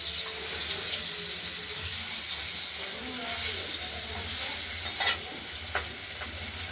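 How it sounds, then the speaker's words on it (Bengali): Pabda fish frying lightly in hot oil, a steady soft sizzle with occasional sharper crackles and a brief clink near the end, heard close up with no talk. "হালকাভাবে পাবদা মাছগুলোকে একটু ভেজে নেব"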